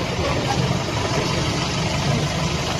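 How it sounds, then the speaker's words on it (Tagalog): A car engine idles at a steady low hum, moderately faint and continuous with no speech over it. "Ang layo na ni PRD, naririnig pa yung makina"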